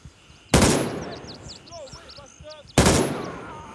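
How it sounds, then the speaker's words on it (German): Two sharp, loud gunshots from the tactical shooter Gray Zone, about two seconds apart, each with a quick echoing tail, with faint chirping birds between them. "Hab dir in den Kopf geschossen, Freund."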